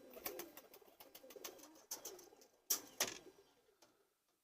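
Pigeons in a home loft make soft cooing and rustling wing sounds in a rapid, uneven series that grows louder toward two strong flaps, then fades to quiet.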